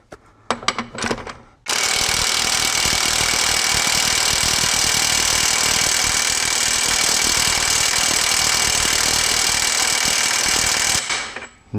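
A SHIDOKU SH-G3 cordless compact impact wrench runs at its first speed setting, with a loud, continuous buzzing hammer close by that lasts about nine seconds after a few clicks of handling, then stops abruptly.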